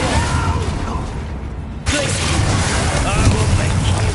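A Confringo explosive spell from Hogwarts Legacy bursts abruptly partway through, a sharp blast that breaks a brief quieter lull amid constant noisy combat, with voices speaking throughout.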